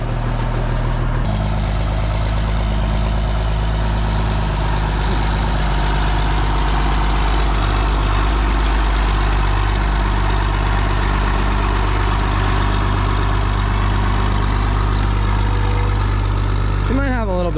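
A heavy pulling tractor engine idles steadily with a deep, constant rumble, close by and unbroken for the whole stretch.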